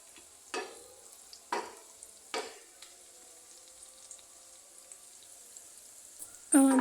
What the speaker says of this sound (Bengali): আবার সবজিগুলোকে ভালোভাবে ভেজে নেব।